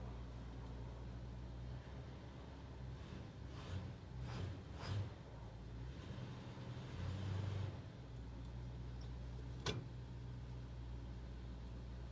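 Gold IH pickup truck engine cranking and trying to start, with a steady low idle rumble and a few louder bursts of effort midway, then a sharp click near the end.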